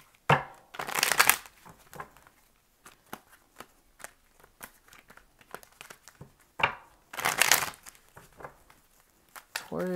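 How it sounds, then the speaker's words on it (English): Tarot cards being shuffled and riffled close by, with two louder bursts of rapid flapping and scattered softer taps and rustles between. "I'm always shuffling, you guys can barely see it."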